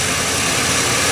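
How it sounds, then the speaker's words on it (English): A car engine idles steadily while a radiator flush and cleaner circulates through the cooling system, a loud, constant low rumble up close with no change in pace. "I've been running this engine for about 2 hours now."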